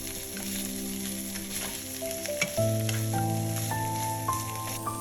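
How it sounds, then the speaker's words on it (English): Pork ribs fry at high heat in a wok, a steady close sizzle with occasional scraping stirs as the fat renders, with a few tonal clinks and hums in the background. "Fry the pork ribs at high heat."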